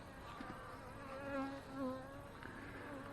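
Honey bees buzzing around a queen cage during queen marking, a close, continuous insect drone that swells in two louder passes, with no talk.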